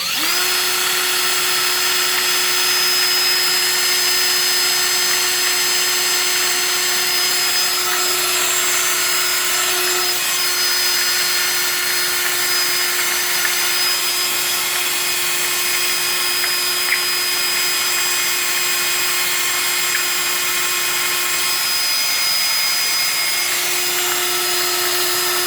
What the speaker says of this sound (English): you're actually using a drill on your smoothie